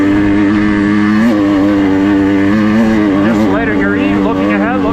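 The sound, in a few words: motorcycle engine climbing rocky hill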